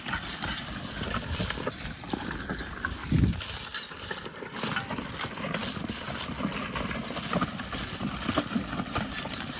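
Three horses plow a field: hooves clop steadily on soft ground amid a low rustling, dragging noise, with a few heavier thuds; close and continuous, no talking.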